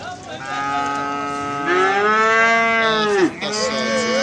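A calf at a livestock market in Beylagan gives a long, loud, close moo that rises and then breaks off, followed by the start of another call, over faint market background.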